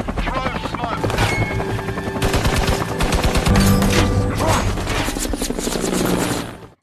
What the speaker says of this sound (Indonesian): Tatkala helikopter yang akan memasok amunisi tersebut ditembak oleh musuh.